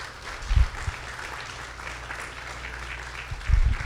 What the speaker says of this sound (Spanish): Aplaudirle a Dios por eso.